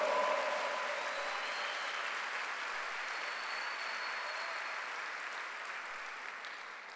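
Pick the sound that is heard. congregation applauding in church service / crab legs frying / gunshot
congregation applauding in church service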